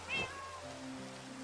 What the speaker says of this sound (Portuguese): Y cuando te pegan hacen como gato.